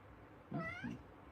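A single cat meow rises and falls in pitch, short and clear against a quiet indoor background.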